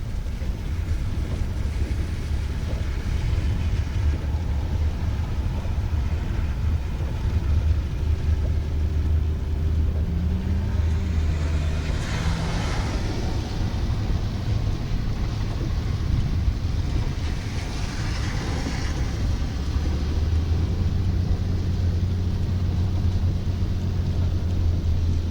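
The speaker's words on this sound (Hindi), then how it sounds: "ऐसा बारिश में गाड़ी चलाना बहुत रिस्क है।" A car drives on a rainy day in Qatif, a low engine and road rumble running steadily with wind noise on the microphone and no talk.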